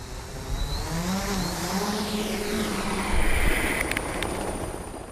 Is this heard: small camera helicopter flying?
yes